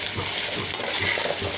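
Okra (bhindi) fries in a pan for a bhindi masala, giving a steady close sizzle with light stirring scrapes and faint clinks of utensil on metal throughout, with no voices.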